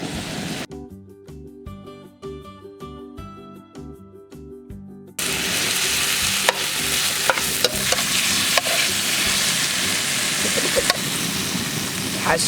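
Bread slices for mushroom crostini toasting in a pan, a steady close sizzle and crackle that jumps louder partway through, with scattered sharp ticks over it.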